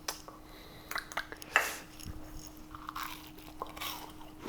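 Crispy fried Korean gimmari, seaweed rolls stuffed with noodles, crunched in a few close, sharp bites, with quiet chewing and faint dish clatter in between.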